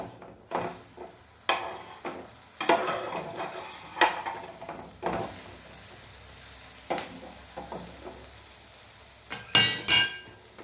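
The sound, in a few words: bread being flipped and fried in a pan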